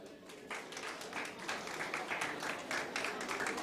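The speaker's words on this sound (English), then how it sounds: "A round of applause for all of them." An audience at a Global College A Levels event applauds the directors and coordinators, a steady wash of many hands clapping at moderate distance that holds evenly throughout.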